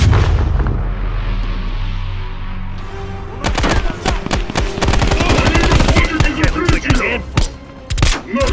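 Explosions and dense automatic gunfire ring out in a Call of Duty Black Ops Cold War firefight near a control tower, a low rumble giving way to rapid, loud bursts of shots and blasts that fill most of the stretch.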